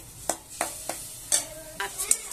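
Spice paste frying in a pan is stirred in regular strokes, each bringing a distinct scrape over a low, steady sizzle, about six strokes in quick rhythm.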